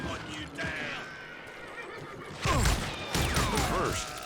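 Horse in the Western shooter Call of Juarez gives loud, repeated whinnies and neighs, mixed with clattering hooves and crashing impacts.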